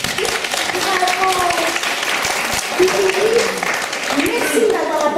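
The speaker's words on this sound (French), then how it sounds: "On applaudit Bella." An audience claps for a young girl named Bella at a children's music show, with dense, continuous applause and voices calling out and cheering over it throughout.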